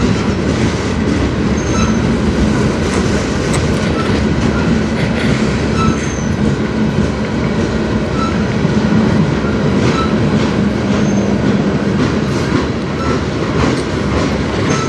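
A freight train rolls past on the Strathroy Subdivision near Sarnia, loud and close, with a continuous rumble, clattering wheels and faint squeals throughout and no voices.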